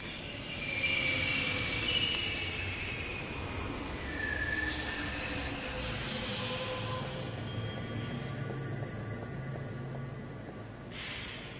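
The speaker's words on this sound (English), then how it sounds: "Ecco la metro." A subway train arrives in The Longest Journey video game, its rumble steady and wheels squealing in long rising and falling tones throughout, with a brief hiss near the end and no talking.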